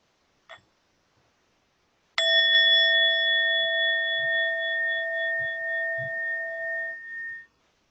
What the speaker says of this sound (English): we'll end with one sound of the bell